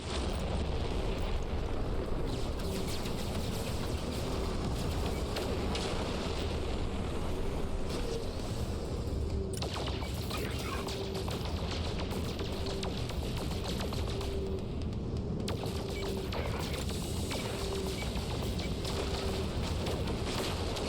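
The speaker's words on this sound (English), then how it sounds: "I usually try to open up with a rocket launcher burst and then take out what's left with the plasma cannon." Rocket launcher bursts and plasma cannon fire in No Man's Sky, a continuous dense barrage of booming blasts and crackling energy shots over a steady rumbling backdrop, loud and sustained throughout.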